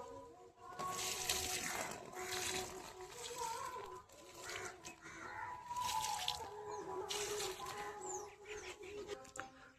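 Water poured over potted plants sown with seeds, a soft splashing trickle close by, with birds calling in the background outdoors.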